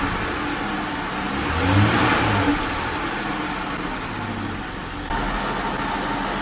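A Dodge Charger's 3.6L V6 idles steadily at about 750 rpm after a fuel injector replacement, running smooth and even with a brief swell in revs near the start; no one talks.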